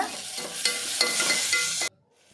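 Onions and tomatoes sizzle and sauté in a pan for mutton biryani, stirred in several short scraping strokes with loud frying hiss before the sound cuts off near the end.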